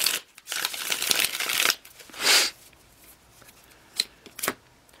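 Tarot cards shuffled by hand in several quick riffling bursts, close and fairly crisp, with short pauses between them and no talking.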